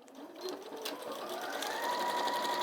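A sewing machine stitches a tote bag at close range, starting slowly and then settling into a steady, rising mechanical hum with a clear whine.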